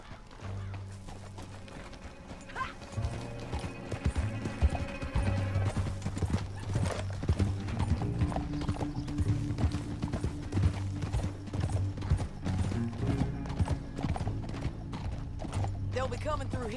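Steady hoofbeats clip-clop at a galloping pace throughout in the video game Red Dead Redemption 2, with a horse whinny early on and a low musical hum beneath.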